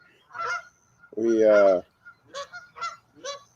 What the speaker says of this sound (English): as you can hear, out here with the ducks early